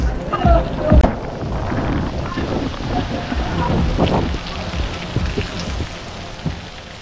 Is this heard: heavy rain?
yes